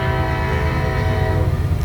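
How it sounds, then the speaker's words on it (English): A train rumbles past close by in a steady, continuous low roar with a horn-like tonal drone layered over it, holding loud and even throughout without talk. "It's just a train."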